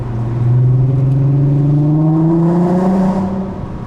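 A 2008 Volkswagen R32 engine revs steadily upward in pitch, loud and close, with a rising mechanical drone and no talking.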